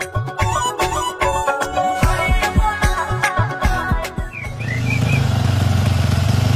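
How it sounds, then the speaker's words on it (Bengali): A vehicle with an overheated engine putters along slowly, its engine pulsing in a loud, uneven rhythm with knocks, then settling into a steadier, denser drone near the end. "গাড়ির ইঞ্জিন খুব গরম হয়ে গেছে তো, তাই একটু আস্তে চালি"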